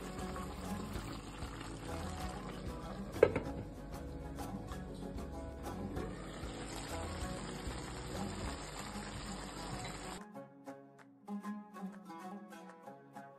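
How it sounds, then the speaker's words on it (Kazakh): Water is poured into a pot of stew to simmer, a soft continuous splashing trickle for about ten seconds that stops abruptly, leaving faint clinks behind. "Кішкене су құйып бұқтырамыз"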